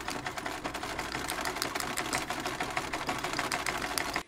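An overlock sewing machine finishing the seams of a trouser leg, running in a steady, fast, whirring stitch with a busy mechanical clatter for about four seconds before stopping abruptly. Nobody speaks.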